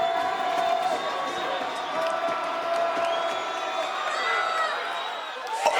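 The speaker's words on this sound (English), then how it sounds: "Both crowds are getting into it here." A high school football crowd cheers and roars at an evening game, a broad steady swell of voices and whoops running the whole stretch, with a commentator's voice faintly mixed in.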